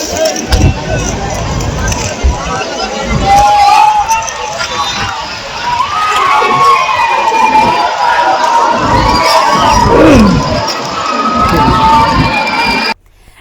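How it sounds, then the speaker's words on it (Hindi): A large rally crowd in a Bihar village chanting Lalu Yadav Zindabad slogans during Nitish Kumar's Pragati Yatra, loud massed voices shouting and cheering continuously, with rhythmic chant bursts and a general babble, close and sustained until it cuts off. "पहले आप खुद सुनिए किस तरीके से लालू यादव जिंदाबाद के नारे खुद नीतीश की प्रगति यात्रा में लगाए गए"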